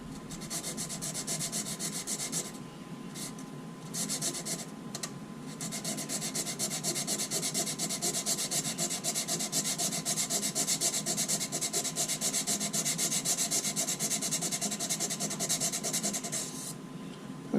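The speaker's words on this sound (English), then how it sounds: "Just a small piece of sandpaper, tri-folded." Folded piece of sandpaper rubbed by hand over a G12 avionics-bay nosecone, giving a continuous close scratchy rasp with a few short pauses and no talk.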